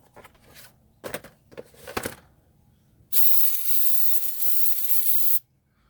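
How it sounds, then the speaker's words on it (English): Brake cleaner sprays from an aerosol can onto a front brake rotor off a 2004 Nissan Sentra 1.8, a few short bursts followed by one long, loud hissing blast lasting about two seconds, then silence. "Spray it down."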